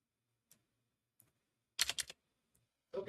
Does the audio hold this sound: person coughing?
no